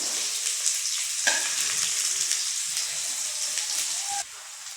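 A handful of big onions frying in oil for okra stir-fry, a dense close sizzle that holds steady throughout, with a short clink partway through.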